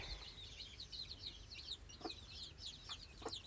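A mother hen with twelve two-day-old chicks, kept for sale at a farm in Mullurkara, Thrissur: dense, continuous high peeping from the chicks with a few soft clucks, close and steady throughout.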